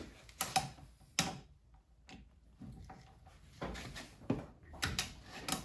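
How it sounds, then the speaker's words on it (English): Lug nuts being cracked loose on the wheel of a VW Mk1 Cabriolet sitting on the ground, a series of close, sharp metallic clicks and clunks at an uneven rhythm, with no talking. "what we're going to be doing is cracking the wheel loose"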